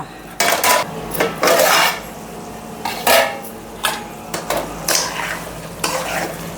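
A metal lid clanks onto a pot of liver curry cooking on the stove: several sharp knocks and rattles at an uneven pace, up close over a low background hiss.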